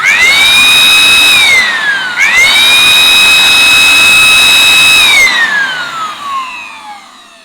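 An INGCO 800W electric blower spins up with a rising whine, dips briefly, then holds a loud steady high-pitched whir while blowing dust from about a metre away, before winding down and fading.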